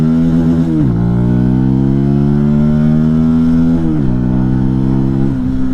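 Benelli TNT 135 motorcycle at full throttle, its small engine droning loud and close while pitch rises in steps across a few gear changes, with no voices over it.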